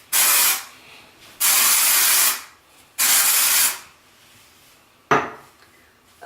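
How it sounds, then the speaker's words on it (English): KMS Hair Play Makeover Spray dry shampoo sprays in three long, close hissing bursts, each lasting about a second, followed by a short sharp click or tap. "use a little dry shampoo. I like KMS Hair Play Makeover Spray."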